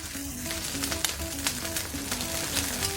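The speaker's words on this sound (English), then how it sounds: "Next, we will add the onion." Onion hitting a hot paella pan for lobster paella, a continuous crackling sizzle with faint spatula scrapes, fairly quiet and close, no voices.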